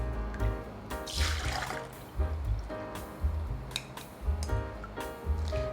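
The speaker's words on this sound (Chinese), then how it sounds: "现在把水分沥出来，" Water drains from soaked soybeans in a kitchen, pouring and dripping in uneven gushes with wet splashes and trickles, close and fairly loud, with no talking.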